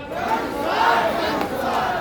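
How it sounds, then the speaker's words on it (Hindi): A large crowd at a political rally in Bihar chants the Jan Suraaj slogan together, a loud, sustained roar of many voices close by that swells and holds. "हम कहब जनता के सुंदर राज तो दूबे कहबे जन सुराज"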